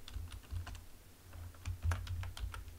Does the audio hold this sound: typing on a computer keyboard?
yes